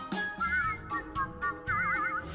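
A melodic, wavering whistled tune from a Disney medley performed as a song, with bright repeated phrases broken by short pauses, clear and close.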